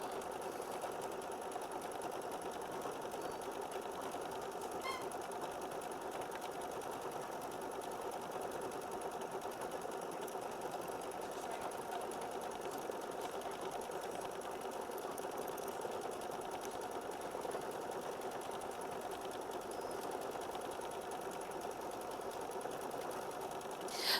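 A sewing machine stitching out a quilt block runs steadily for the whole stretch, a fast, even mechanical whir at close range, quiet and uninterrupted.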